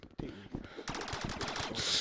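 Rapid video-game gunfire aimed at police officers, a burst of close, loud shots rattling off in quick succession after a brief pause at the start.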